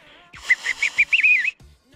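A fingerless whistle made with tongue and teeth, a quick run of clear pulsing chirp-like notes that ends in a sustained warbling tone, close and loud, with no talking.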